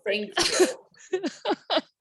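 A single sharp sneeze bursts out near the start, followed by a few short spoken words in a quiet room.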